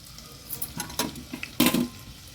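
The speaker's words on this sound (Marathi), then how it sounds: "आलं लसूण क्रश तेलावर व्यवस्थित परतून घ्यायचा आहे." Ginger garlic paste sizzles in hot oil with a bay leaf over a wood-fired clay stove, with a soft steady crackle broken by a few sharp bursts of spoon stirring and scraping.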